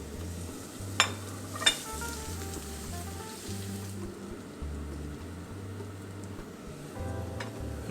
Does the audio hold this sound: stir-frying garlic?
yes